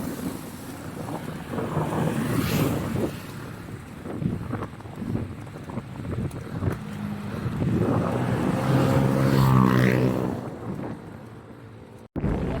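Wind and sea waves on a coastal stretch during a bike ride, a steady rush of wind buffeting the microphone with surging low roars of surf, some swells louder, fairly close.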